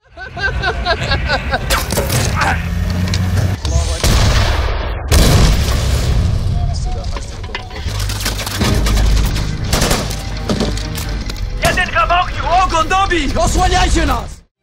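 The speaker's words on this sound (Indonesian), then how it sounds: "kendaraan mereka mendapatkan serangan dari musuh yang menembaki mereka dengan mortar" Rapid bursts of gunfire and heavy booming mortar explosions fill the scene as enemies shell vehicles, loud and continuous, with shouting voices mixed in at times.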